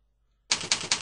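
Computer keyboard typing in CorelDRAW 11 starting after a silent half-second, three close, crisp bursts of key clicks in quick succession.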